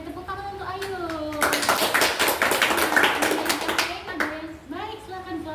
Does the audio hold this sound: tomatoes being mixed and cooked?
no